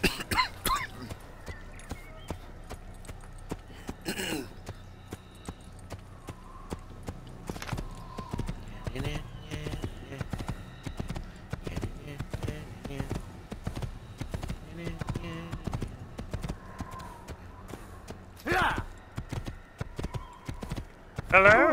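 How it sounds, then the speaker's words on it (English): Horse hooves clip-clopping in Assassin's Creed, a steady walking rhythm of distinct hoof strikes under frequent talk, with occasional louder knocks and a brief whinny-like sound. "He wants to ride on a black horse."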